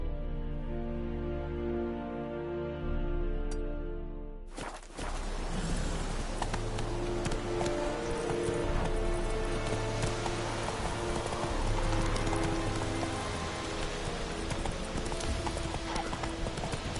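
Roach, a horse in The Witcher 3 video game, gallops with steady rapid hoofbeats that start abruptly after a quieter stretch and continue loud and close, over ambient game background.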